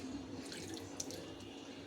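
Water runs and splashes softly, a steady faint trickle like hands being wet under a tap, with no talking.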